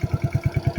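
Suzuki Skydrive Sport motorcycle engine idling nearby, a steady low putter of evenly spaced pulses with a slightly knocking beat, heard alone without voices.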